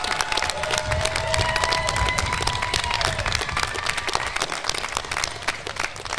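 A crowd at a college commencement ceremony applauding continuously, dense clapping with some cheering mixed in, loud and sustained throughout.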